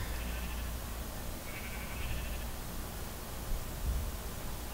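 Sheep bleat in a video game, with a couple of short mid-pitched calls rising over a steady hiss of ambient noise, fairly faint and no talking.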